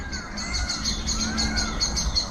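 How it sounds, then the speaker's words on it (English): A bird calls outdoors in hot, open country, where a peacock is about, with repeated high chirping notes and a rising call near the middle, fairly loud over a steady outdoor background and no speech. "Peacock."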